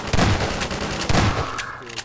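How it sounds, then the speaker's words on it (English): Grenade blasts and gunfire against Combine soldiers in the video game Half-Life 2, two heavy booming impacts about a second apart with crackling gunfire rattling between and after them, loud and close. "that grenade actually did a lot of the work for me"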